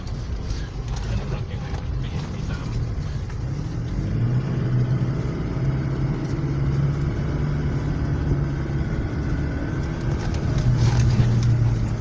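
An off-road car climbing in low gear on a mountain track at Doi Inthanon. Its engine keeps up a continuous low rumble with mechanical rattling, and the effort grows louder partway through.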